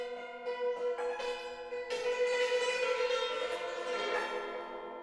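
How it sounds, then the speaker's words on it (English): A Chinese hammered dulcimer with courses of three strings per bridge, struck with bamboo hammers; a few bright plucky notes ring out, then a denser run of shimmering struck tones that sustain and fade, played alone. "the Chinese dulcimer is different from the hammer is quite different"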